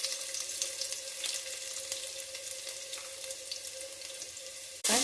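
Chopped onion sizzles in hot oil in a pan, a continuous, crackling hiss that ends in a sudden loud burst of sound.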